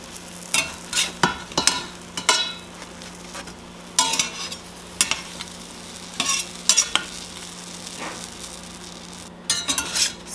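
Egg white bread sandwiches toast in a pan over medium heat, a low steady sizzle under repeated scraping and clinking of a utensil against the pan, close and fairly quiet, with no talk.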